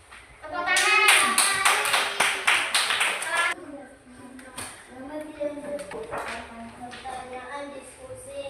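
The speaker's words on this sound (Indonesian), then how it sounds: "Tepuk tangan." A third-grade primary school class claps hands in a fast rhythmic burst of sharp claps lasting a few seconds, with children's voices speaking and chanting over and after it.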